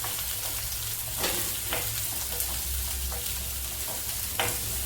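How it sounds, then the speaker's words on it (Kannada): Sliced onions frying in hot oil for a North Karnataka-style zunka, a steady soft sizzle with a few scraping stirs of a spoon, no voices. "ನೆಕ್ಸ್ಟು ಈರುಳ್ಳಿ ಹಾಕೊಂಡ್ಬಿಡೋಣ. ಸ್ವಲ್ಪ ಹಾಗೆ ಫ್ರೈ ಮಾಡ್ಕೊಂಬಿಡೋಣ ಎಣ್ಣೆಯಲ್ಲಿ."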